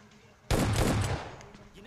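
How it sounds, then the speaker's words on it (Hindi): A single sharp shotgun-like blast from an S12 weapon in PUBG Mobile Lite gameplay rings out loud and close, then decays over about a second. "तो यहाँ पे मैं उसको एक शॉट देता हूँ"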